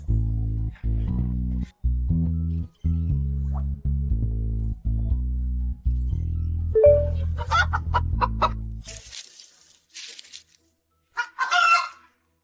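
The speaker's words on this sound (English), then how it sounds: "It's a chicken. There are chickens nearby." Nearby chickens cluck in short, irregular bursts over a low, steady rumbling hum that stops partway through, followed by a few scattered louder clucks near the end.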